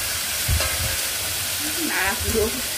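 Boiled banana flower with fish head, a Bengali dish, is stirred in a hot pan, giving a close, steady sizzle broken by scraping and clattering strokes of the spatula.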